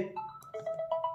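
An incoming-call ringtone from a phone paired with a Boat Matrix smartwatch plays as a short melodic electronic tone sequence, moderately quiet and heard alone without speech.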